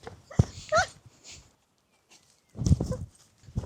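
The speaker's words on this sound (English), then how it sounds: "Calm down, dog." A dog whimpers and gives short yelping barks in an echoey interior, with a couple of sharp bursts separated by a quiet gap.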